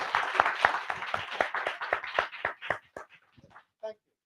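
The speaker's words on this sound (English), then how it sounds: "If you're going to clap at all, then clap properly, not this half-hearted like rubbish." An audience at a literary talk claps in scattered, uneven bursts that thin out into a few isolated claps before fading to near silence, fairly close.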